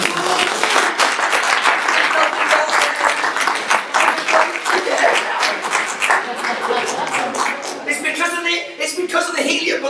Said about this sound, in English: And give Mary a massive round of applause